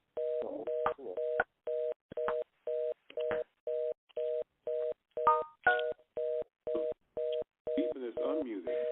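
Short electronic beeps repeat in a regular rhythm on a conference phone line, about two per second, while voices talk faintly over and between them.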